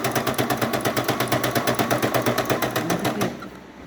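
A sewing machine stitches in a fast, even mechanical rhythm, loud and close, running steadily before it slows and stops.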